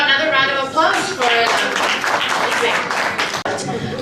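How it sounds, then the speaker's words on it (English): Audience applause at an International Mother Language Day arts event rises over a speaking voice and runs dense and fairly loud for several seconds. "Let's do another round of applause"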